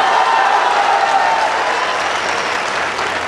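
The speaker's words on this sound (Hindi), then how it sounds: "आप तालियां बजाएं तो मैं पंक्तियां सुनाऊं" A crowd at a Kavi Sammelan poetry gathering at BHU breaks into loud, sustained applause, a thick, even wash of clapping across the hall that holds steady and fades only slightly at the end.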